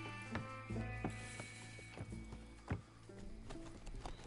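A horse moving in Red Dead Redemption, its hooves and harness making a series of irregular clops and mechanical clicks over a steady low rumble, with no talk.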